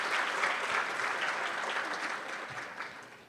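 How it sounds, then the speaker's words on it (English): Warm round of applause from an audience at a staff recognition ceremony, steady and fairly distant, slowly tapering toward the end. "please give your spouses, your family, and friends a round of applause"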